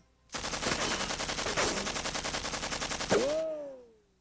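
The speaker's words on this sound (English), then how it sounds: "All you gotta do is just keep pulling it and pointing the gun." An automatic weapon fires one long, loud, rapid burst of about three seconds, then a falling whine trails off into quiet.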